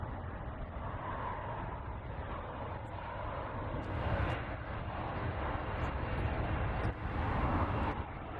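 A United Dreamliner airliner taking off at San Francisco airport gives a distant, steady low engine rumble that swells slightly in the middle and holds on through the end.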